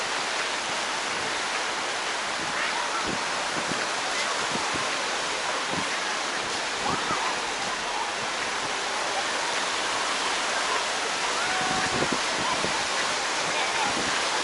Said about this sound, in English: But pretty good waves over here because of this wind.